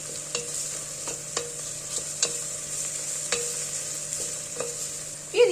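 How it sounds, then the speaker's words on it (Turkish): Vegetables and a spoonful of dried mint sauté in a pan for a soup, with a soft steady sizzle under repeated sharp clicks and scrapes of a spoon stirring against the pan, close and alone. "Sebzeler kavrulurken bir tatlı kaşığı kuru nane ekliyorum. Biraz da naneyi kavuruyorum."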